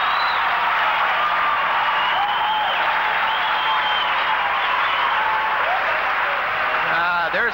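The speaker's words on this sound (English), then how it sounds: "Now there's the crowd." A hockey arena crowd at a Fort Wayne Komets versus Atlanta game roars and cheers loudly and steadily, with a broadcast commentator's voice audible faintly over the crowd noise.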